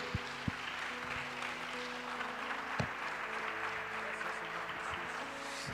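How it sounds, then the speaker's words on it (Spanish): A church congregation claps together in a steady round of applause, with occasional louder individual claps standing out over the continuous patter. "Dale un aplauso al Señor. Dale un aplauso al Rey."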